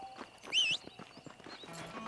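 Horse hooves clip-clopping in Red Dead Redemption, a quiet run of distinct, fairly even steps with a brief higher whinny-like tone near the start, no talking.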